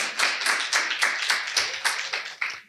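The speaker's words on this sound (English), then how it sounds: "Round of applause." A small audience claps during a documentary filmmaking panel, producing about a dozen evenly spaced hand claps in a steady rhythm that sound close and moderately loud, with no voices over them.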